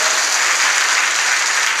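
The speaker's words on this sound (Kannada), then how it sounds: "ಜೋರಾಗಿ ಚಪ್ಪಾಳೆ ತಟ್ರಿ" Loud, dense audience applause at a religious gathering, a continuous even burst of clapping throughout, with no speech over it.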